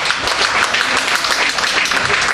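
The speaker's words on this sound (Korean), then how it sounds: "자 크게 박수 한번 보내주세요" Loud, steady applause from a large audience at an after-party gathering following a group hike, dense clapping that fills the whole moment without letting up.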